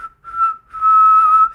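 A person whistles alone in two short tones, a brief note followed by a longer held one, clear and close with nothing in the background.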